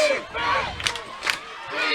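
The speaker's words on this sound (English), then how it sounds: "this Wildcat crowd on their feet" A high school football crowd at Andrews cheers from the stands during a Murphy at Andrews game, a sustained roar of voices with a couple of sharper shouts rising above it, fairly loud throughout.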